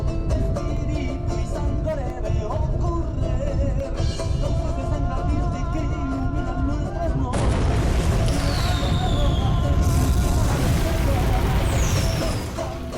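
Volcano explosions at sunset come as deep, continuous rumbling booms with loud, sustained roaring throughout, swelling louder partway through, while people's voices are heard faintly under the noise.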